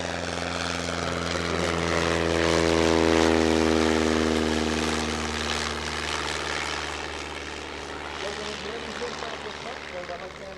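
A World War I aircraft with a castor-oil-lubricated engine flies at an air show at the Golden Age Air Museum. Its droning propeller engine swells as it passes and then fades, with a voice talking over it.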